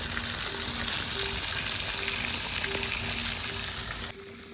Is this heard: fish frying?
yes